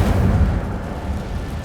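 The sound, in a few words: fire spell Incendio cast in video game Hogwarts Legacy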